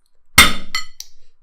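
A sharp clink and crunch as a knife breaks into a hard Terry's Chocolate Orange, followed by a couple of smaller clicks, close up and with no voices.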